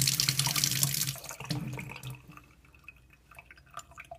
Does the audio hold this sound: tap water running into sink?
yes